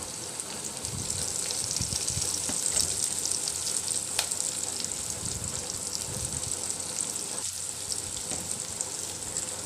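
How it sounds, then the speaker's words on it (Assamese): Sliced onions fry in hot oil in a pan, giving a steady, close sizzle that hisses on without a break, with a few soft scrapes and clinks here and there. "পিয়াজখিনি দিয়াৰ পাছত মই অলপ ৰঙচুৱা হোৱালৈকে ভাজিম"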